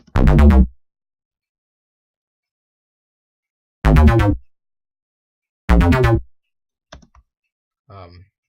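FG Chomper preset on a SAR synth in FL Studio: three short, punchy stabs spaced apart by silence, followed by a couple of fainter, clipped blips at the end.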